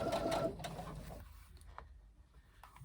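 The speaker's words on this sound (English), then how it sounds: "Now we're going to sew the sides of our pocket" Sewing machine stitching the sides of a fabric laptop bag pocket with a 3/8 inch seam, a short quiet burst of mechanical stitching that quickly fades to faint clicks and handling noise.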